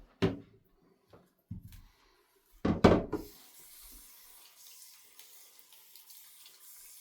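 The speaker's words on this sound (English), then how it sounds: "We can just rinse that out in the sink, I think." Water runs from a sink tap to rinse out a RODI filter housing, opening with short bursty splashes and clatter, then settling into a soft, steady flow.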